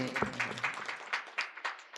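Faint applause from an audience at a devotional talk, a scattered patter of claps with a few sharper hits, partly under a speaking voice.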